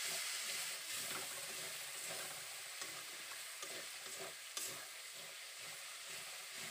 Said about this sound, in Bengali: আবারও আমি এই উপকরণগুলোকে ভালো করে নাড়িয়ে চাড়িয়ে কষিয়ে নেব।